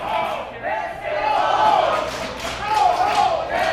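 A wrestling crowd at the Orpheum cheers and roars loudly during an FIP championship match, swelling in waves of chanting and yelling that fill the whole stretch with no pause.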